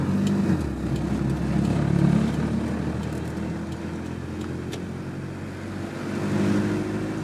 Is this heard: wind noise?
yes